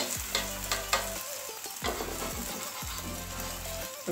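A vegetable paratha fries in a pan, giving a steady close sizzle with a few metallic scrapes and taps of a spatula as it is flipped, fairly quiet and without voices.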